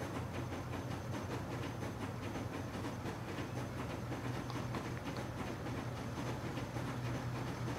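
Train in a transport video game rolls along the tracks with a steady, even rumble and rapid rhythmic clatter, fairly quiet and continuous, with no talk.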